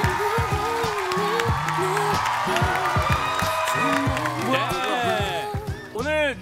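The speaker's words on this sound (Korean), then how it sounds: "큰 박수 주세요." Studio audience at a Korean comedy show breaks into applause and cheering, a dense, steady wall of clapping with whoops, while a music track plays underneath and a voice rises near the end.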